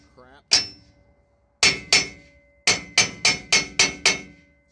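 Sharp hammer taps ring on rusted metal of an offroad wrecker to break a rust seal: a single strike, a pair, then a quick steady run of about six blows, close and loud, with a brief voice at the start.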